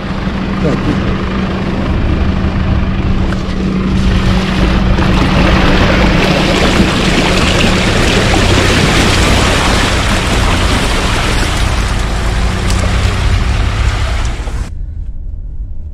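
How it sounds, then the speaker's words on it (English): A 2020 Mercedes-Benz GLC wading through 30 cm deep water on an off-road course in Frankfurt, with loud continuous splashing and rushing water over engine rumble for about fifteen seconds before it cuts off. "now there's some water underneath, and the ground, the wading depth is 30 centimeters"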